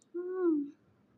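A single Asian koel, the burung tuwu, gives one short, clear, mellow call that slides slightly downward, fairly faint and distant against a quiet background, with no talking.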